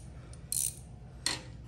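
A ratchet wrench snugs a 14 mm bolt on a pressure washer build powered by a Predator 420 engine, two short close ratcheting bursts against a low background hum.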